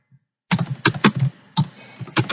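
Brisk typing on a computer keyboard, with clustered bursts of key clicks and short pauses between them, close and clear with no voices.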